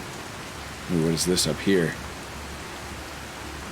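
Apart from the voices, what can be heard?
rain in Skyrim video game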